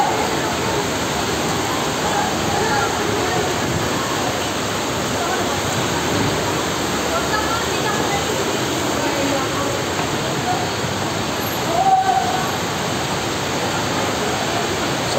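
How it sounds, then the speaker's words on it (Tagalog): Sudden heavy rain downpour during a thunderstorm, a loud steady roaring hiss that holds for the whole stretch, with a brief surge near the end. "Biglang umulan ng malakas."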